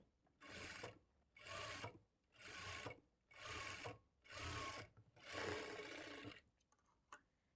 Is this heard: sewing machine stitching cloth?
yes